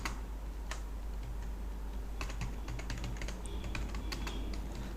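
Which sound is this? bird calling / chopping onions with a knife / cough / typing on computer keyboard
typing on computer keyboard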